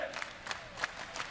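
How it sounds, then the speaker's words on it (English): A tournament crowd at a Tekken event roars and cheers in repeated swells, like distant chanting heard from some way off. The sound is moderate and steady, with no clear speech over it. "the crowd is letting you know what we're seeing here"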